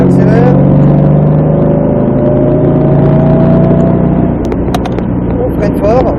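A Ford Mustang Shelby GT500 accelerating hard on a track, its engine note climbing steadily as the revs build, loud and close. The engine drops away near the end, and a voice talks over it throughout.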